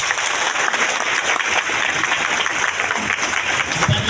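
Loud, sustained audience applause fills a mega event hall in Latehar, Jharkhand, a dense wash of clapping hands that holds steady without pause and with no voices over it.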